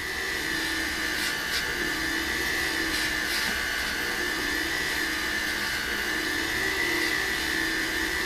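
A white buffing wheel polishes jewelry after filing, a loud, steady motor whine with constant high hiss, continuous and unbroken, with faint pulses as the piece meets the wheel.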